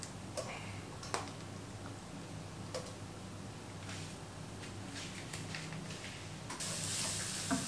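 Faint sizzling of garlic sautéing in oil, with occasional clicks and light stirring taps; the hiss swells louder toward the end.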